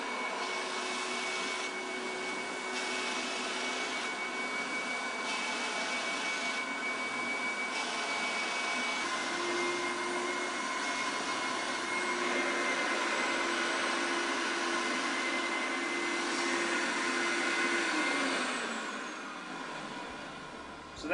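A Mytee M12 carpet and tile cleaning machine runs in carpet cleaning mode at 220 psi with its 2,000-watt heater, a steady loud whining vacuum drone that holds unbroken for about twenty seconds before winding down at the end.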